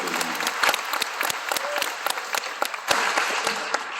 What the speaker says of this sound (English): Please, another round of applause for them.